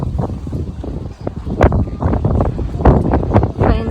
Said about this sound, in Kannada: ಗಾಳಿ ಜಾಸ್ತಿ ಇದೆ